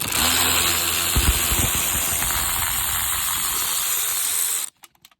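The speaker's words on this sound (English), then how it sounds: "So you just go ahead and take those two bolts out." A ratchet backs out the two bolts securing the seat airbag in a Ford Raptor, steady loud mechanical whirring with clicking that runs for several seconds, then stops abruptly, leaving a few faint knocks.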